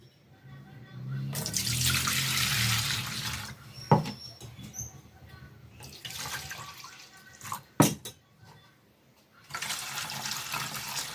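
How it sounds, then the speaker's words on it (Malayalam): Fermented rice water is poured into a vessel in a few separate bursts, each a close, splashing rush of liquid with short pauses between them. "കഞ്ഞിവെള്ളം ഞാനൊരു പാത്രത്തിലേക്ക് ഒഴിച്ചു കൊടുക്കുകയാണ്."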